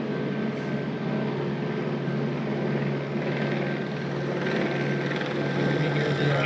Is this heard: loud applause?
no